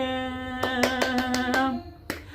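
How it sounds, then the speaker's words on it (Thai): A handful of sharp hand claps, about six in quick succession and one more after a pause, over a sustained musical tone. "ปรบมือต้อนรับ"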